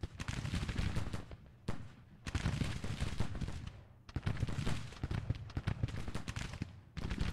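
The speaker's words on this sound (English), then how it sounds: "We're under a real long range fire from these Union troops." Long-range rifle volleys from Union troops in Grand Tactician: The Civil War, a dense continuous crackle of massed musketry rolling in sustained bursts with brief lulls, distant yet loud and steady.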